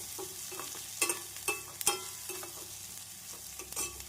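Onions sauté in a pan for a small-brinjal fry, a soft continuous sizzle broken by regular spoon scrapes and taps against the pan, close up with no voices.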